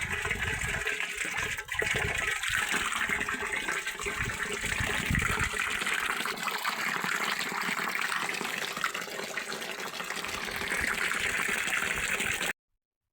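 Water from a motor-driven pipe gushes steadily into a barrel on a farm, a loud, continuous rushing flow that holds for about twelve seconds and then stops abruptly, with no talking.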